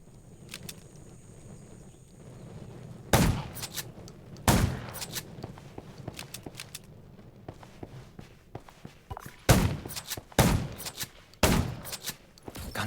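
Several sharp gunshots ring out at irregular intervals in the video game Garena Undawn, amid quieter shuffling steps and faint background noise at a junkyard.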